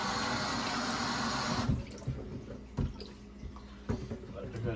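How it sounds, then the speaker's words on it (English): Tap water gushes loudly to wash chili pepper off hands while cooking spicy herbal chicken wings, then shuts off after a couple of seconds, leaving a few soft knocks and handling sounds. "I gotta wash the pepper off my hand before I forgot."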